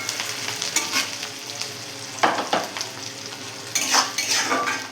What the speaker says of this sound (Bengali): পাঁচ ফোড়ন, সবগুলো একসঙ্গে ভালো করে ভেজে নেব।